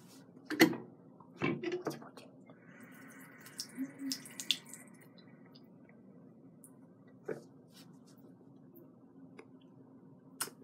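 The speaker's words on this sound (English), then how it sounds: "My little kitty is drinking water out of the sink." A cat drinks from a running sink tap: a thin stream of water trickles steadily, broken by scattered taps, splashes and clicks, with soft household noise around it.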